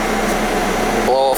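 Heat blower in the cab of a Trackless MT5TD tractor, a steady close airy whoosh with a faint hum that shifts briefly near the end.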